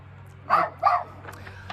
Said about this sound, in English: That was Percy barking.